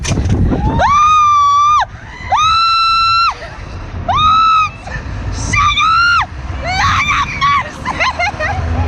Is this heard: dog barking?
no